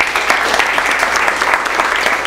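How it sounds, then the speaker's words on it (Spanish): Loud, steady applause from the audience at a workshop on the power of the mind, many hands clapping in a continuous wash with no voices over it. "vamos a dar un fuerte aplauso a Alejandra"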